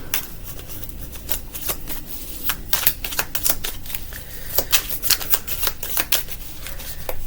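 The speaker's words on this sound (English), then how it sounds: "Let's get your lucky dice roll, Leo." Dice rattle and roll on a surface during a tarot-style reading, giving a quick, irregular run of sharp clicks and clatters at close range, with no speech.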